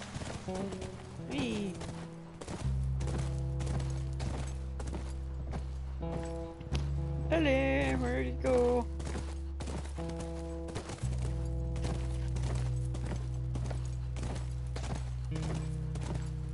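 A horse's hooves clip-clop in a steady walking rhythm in the video game The Last of Us, close and continuous under game music, with a brief whinny partway through.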